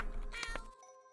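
A cat meows in the video game YIIK, a short, clear game meow over background music that then fades to a quiet tone.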